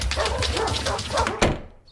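Dogs bark and yip in a rapid, busy cluster with a whimpering edge, ending in one sharp louder bark before fading out; close and fairly loud.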